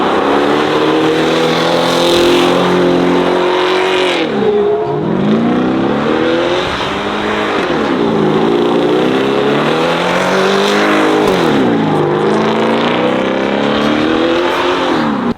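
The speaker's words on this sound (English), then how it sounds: "Mason let me take his Raptor R in the burnout pit at Whitley" A Ford Raptor R truck does a burnout in a burnout pit, its engine loud and close, revving hard in repeated rising and falling surges over a continuous hiss of spinning tires.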